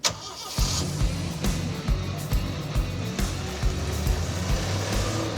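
An off-road AMC Pacer drives along with a loud, close engine drone pulsing in a steady rhythm, cabin noise filling the clip without talk.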